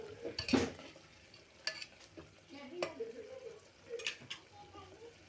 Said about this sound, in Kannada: ಈಗ ಒಂದು ಸ್ವಲ್ಪ ತಿರುಗಾಡ್ಕೊಂಡು ಇದನ್ನು ಫ್ರೈ ಮಾಡಿ